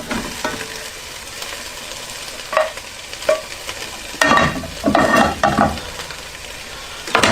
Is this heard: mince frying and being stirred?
yes